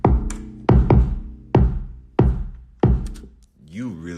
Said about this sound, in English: But then if you add the original kick,